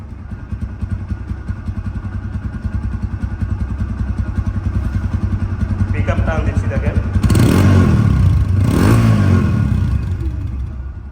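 A 2022 TVS Apache RTR 160 motorcycle with about 6,000 km on it runs close by at a steady idle. Its engine rises in two brief revs near the end, with faint voices in the background.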